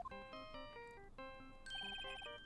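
Phone ringing after a redial in the video game Phoenix Wright: Ace Attorney: a quiet, bright electronic ringtone plays a short repeating melody of clear beeping notes.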